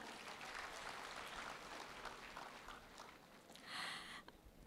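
Applause from a seated audience at a company event, a steady dense clatter of many hands that swells briefly near the end before fading.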